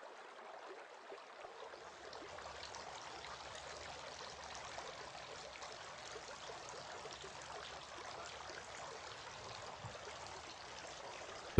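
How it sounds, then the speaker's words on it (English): Water running steadily from a tap while a beard is washed during ablution before Islamic prayer, a soft, even trickle heard alone and fairly faint for the whole stretch. "Washing the beard."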